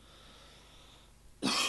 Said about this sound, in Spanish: arrastro una tos